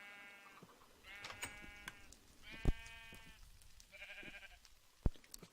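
Starving sheep penned in Minecraft with the Better Than Wolves mod, four bleats in a row, wavering and nasal, close and moderately loud, with soft thumps between them and no talking.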